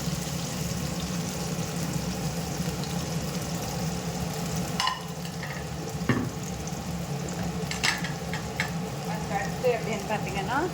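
Chopped onions sizzle and fry in a pan for a spicy mushroom gravy, a steady close crackling hiss with occasional stirring clinks and scrapes, and no talk.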